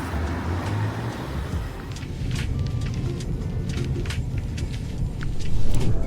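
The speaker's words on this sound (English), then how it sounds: "cars are driving on the road" Cars driving along a dusty road outside a hotel in Tashkent make a steady, moderate traffic rumble with low engine drone and occasional clicks, swelling slightly louder near the end, with no talk.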